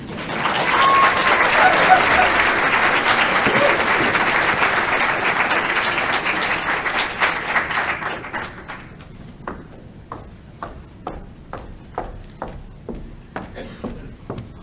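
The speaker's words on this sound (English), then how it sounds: "Can we give him another round of applause?" Loud sustained applause from a graduation celebration crowd for several seconds, then it thins out into scattered individual claps that trail off.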